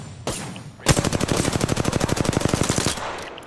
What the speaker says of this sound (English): I'm getting shot at from a distance too.